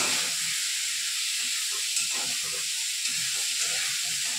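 Potatoes frying in hot oil in a pan with salt and turmeric, a steady bright sizzling hiss throughout with soft, irregular crackles and pops underneath.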